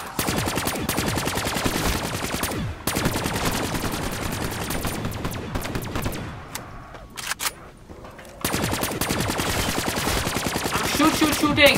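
Rapid gunfire from a KRM shotgun in the Black Ops 3 Zombies Giants map, loud repeated blasts with a short lull near the middle before the shooting resumes hard.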